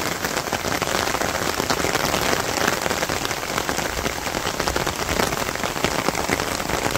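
Gentle village rain in Bangladesh, neither heavy nor sparse, a continuous even hiss of drops pattering on surfaces close by, with no voices.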